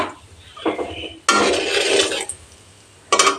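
Utensil stirring in a pan after salt and a little over a quarter teaspoon of turmeric go in for egg curry, heat turned low; two scraping bursts of metal on metal, close and fairly loud, with no talk.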